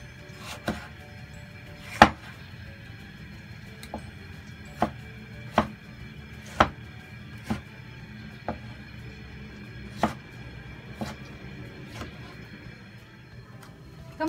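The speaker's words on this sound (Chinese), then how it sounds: "番茄将它洗干净切粒啦" A knife dices tomatoes on a cutting board, giving about a dozen sharp, separate chops at an uneven, unhurried pace, close and clear against a quiet kitchen background.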